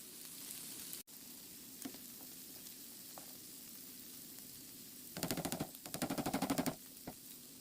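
Burgers frying in a pan on the stove, a faint steady sizzle, then two louder bursts of crackling, popping spatter near the end, no talking.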